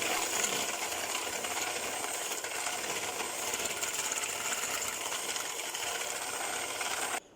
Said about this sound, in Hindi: यहाँ पे हम अच्छा से इसे बीट कर लेते हैं